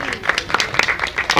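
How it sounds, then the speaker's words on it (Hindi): Loud clapping from an audience welcoming a legislator at a sewer line inauguration ceremony, a run of sharp overlapping claps that stays steady through the short stretch. "जोरदार तालियां।"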